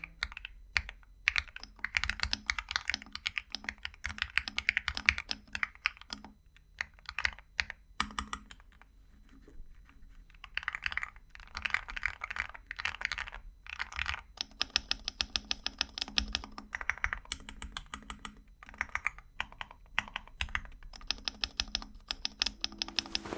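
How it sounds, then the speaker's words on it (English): Rapid typing on a KiiBoom mechanical keyboard fitted with Matcha Latte linear switches, with dense, close clacky keystrokes in bursts and a few short pauses, with no speech. "Although these linear switches are incredibly smooth and a joy to type on"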